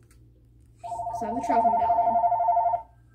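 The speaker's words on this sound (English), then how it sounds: "That's the phone ringing for some reason." A telephone rings indoors in one sustained electronic warble of about two seconds. Someone speaks at the same time.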